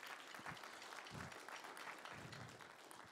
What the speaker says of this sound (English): Can we give them a round of applause for helping out with the kids club?